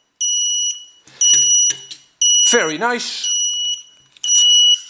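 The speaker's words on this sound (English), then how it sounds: "it's beeping, of course, because my transmitter isn't on" A Walkera Rodeo 150 quadcopter with its transmitter off gives loud, piercing electronic beeps in repeated bursts, close by, while someone briefly speaks between them.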